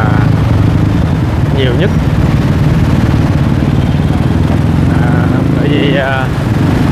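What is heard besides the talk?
street traffic of motorbikes, mostly Honda, in Saigon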